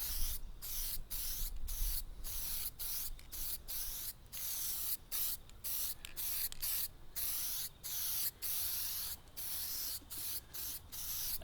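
Short bursts of aerosol spray paint hiss onto an exhaust part from a Honda CBR250R MC19 motorcycle. The hisses are close and even, each lasting under a second, with brief gaps between them.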